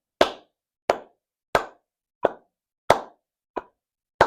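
Hands clap a steady beat during a music lesson, seven sharp, evenly spaced claps about two-thirds of a second apart, close and alone with silence between them.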